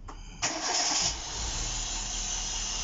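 A 1.4 Opel Corsa B engine cranks briefly and fires up after a timing belt job, catching with a loud rush before settling into a steady, even idle close by.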